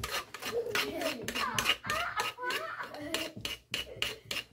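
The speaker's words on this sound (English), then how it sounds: "Sorry if that scraping is loud." A utensil scrapes blueberry sourdough muffin batter from a bowl in repeated short rasping strokes, close and fairly loud, with small knocks between them.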